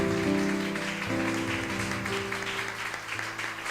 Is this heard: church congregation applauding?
yes